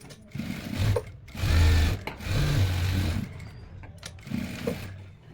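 Sewing machine stitching a stretchable winter blouse, running in several bursts of steady whirring with short pauses between runs, close and clear with no talk.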